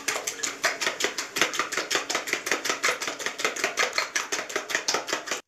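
Eggs with salt are whisked briskly in a bowl for an omelette, making a fast, steady run of close, rhythmic tapping strokes with no talking.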